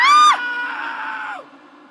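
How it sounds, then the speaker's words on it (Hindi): A boy screams in a horror story set in a haunted school, one sharp high cry that breaks off and trails into a quieter, wavering wail. "अर्जुन चिल्लाता है"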